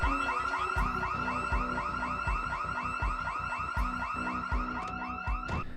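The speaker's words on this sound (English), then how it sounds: "I tried to open one of the windows and those damn house alarms." A house alarm wails in the Project Zomboid survival game after a window is forced, a loud continuous warbling siren with rapid repeating sweeps and a steady pulsing beat underneath, heard alone throughout.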